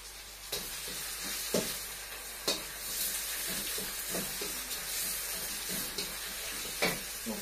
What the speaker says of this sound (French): je mets les oignons rouges et les oignons en tige